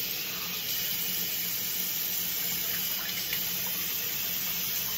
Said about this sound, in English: So, sink, turn off!